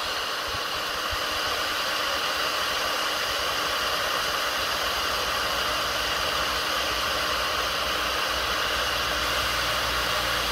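A hot air tool heats a long crack in a plastic kayak, producing a steady, even, fan-driven whoosh that stays constant and fairly close throughout, with no talking.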